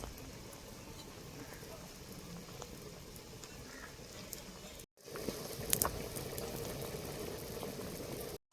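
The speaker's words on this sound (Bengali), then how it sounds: "এদিকে ভাত ফুটে উঠেছে।" Rice boiling in a pot gives a steady, low bubbling and hissing that continues throughout, briefly cutting out once, with faint handling sounds over it.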